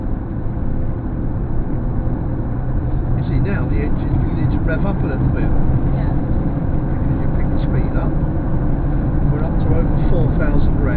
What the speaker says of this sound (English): You see now the engine's beginning to rev up a little bit.